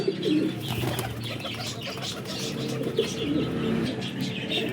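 Flying-breed pigeons kept together for sale, cooing in low throaty rolls with bright chirps mixed in and an occasional flutter of wings, steady and fairly close throughout.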